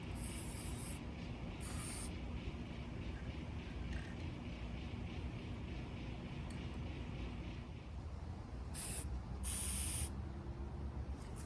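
High-heat Rust-Oleum semi-gloss spray paint hisses in a steady, close aerosol spray, applied to a rusty Ryker, with brief louder bursts near the end and no talking.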